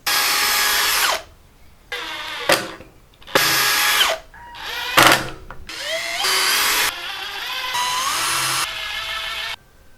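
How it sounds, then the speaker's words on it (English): A power drill pre-drills holes in wood, whining in several bursts of a second or so each, separated by short quiet pauses, close and loud. "I'm still gonna pre-drill the wood"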